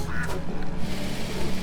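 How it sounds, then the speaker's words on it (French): Duck quacking in the farming video game Farm Together, a few rapid nasal quacks close up over a soft background bed. "Un petit canard comme ça."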